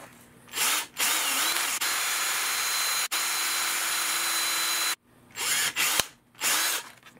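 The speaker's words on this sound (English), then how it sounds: "So we're going to drill a hole right in there." A power drill bores a quarter-inch hole into a plastic Commodore 64 fast load cartridge case: a loud, steady whine held for several seconds, then short start-stop bursts as the trigger is pulsed.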